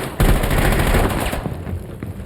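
Rapid automatic gunfire from a fast-firing gun in a video game match, a loud, dense burst of shots close up that tapers off, with no talking over it.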